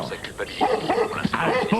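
A dog barks and yips in short bursts mixed with whimpers, heard close and under someone speaking French.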